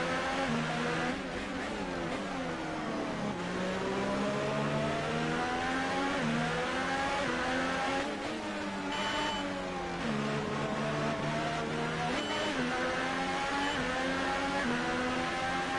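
A McLaren Formula 1 car with a Renault engine races in F1 2018 at the Hungarian GP, its high engine wail climbing and dropping through gear changes, loud and steady with no voices for the whole stretch.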